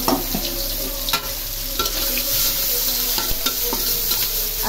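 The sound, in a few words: onions frying in hot oil in a pan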